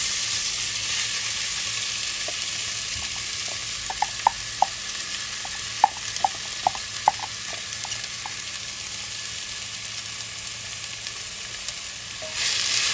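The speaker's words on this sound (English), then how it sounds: "And just give that maybe 5 minutes just to saute, so everything will saute up nice." Chopped ingredients sauté in a hot pan with a steady, soft sizzle, broken by a scatter of sharp clicks and taps from stirring over several seconds; no one speaks.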